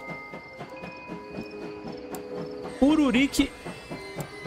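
A slow, rhythmic clatter of rail wheels from a train in the video game Last Train Home runs steadily, with a sustained tonal drone and a brief synthetic voice-like call partway through.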